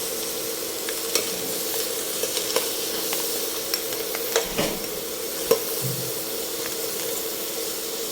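Prawns and crabs cook in butter, a loud, continuous sizzle broken by scattered clicks and scrapes of a utensil stirring the pan, with no talk over it.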